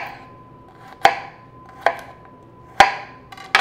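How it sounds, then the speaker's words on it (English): A knife mincing garlic cloves on a cutting board lands four sharp, separate chops, about one per second, close and clear against a quiet background. "While the onions are cooking, I'm gonna mince some garlic."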